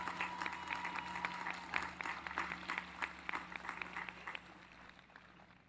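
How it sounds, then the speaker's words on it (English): An audience applauds the Patterson High School graduating class of 2026 at a graduation ceremony, with sustained, dense clapping and a steady background hum that gradually fades toward the end. "let's give a big round of applause to the outstanding Patterson High School graduating class of 2026"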